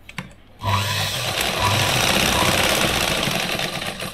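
A sewing machine topstitches a katori blouse, starting after a brief quiet moment and then running loud and steady with a fast mechanical chatter for about three and a half seconds.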